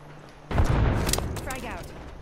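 A frag grenade goes off in the Apex Legends battle royale on the World's Edge map, a sudden loud boom with a rumbling low-end tail that fades over about two seconds, mixed with game effects and a clear voice line.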